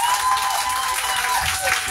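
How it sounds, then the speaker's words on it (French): Church congregation at a Saturday evening service applauding in praise of God, a dense wash of clapping that fills the short moment, with a faint voice or tone running underneath. "Donnons encore une main d'acclamation à notre Dieu"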